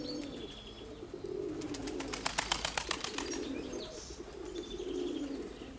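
Pigeons coo softly in a quiet loft, with a short burst of rapid chirping or wing-flapping in the middle and a low steady hum beneath.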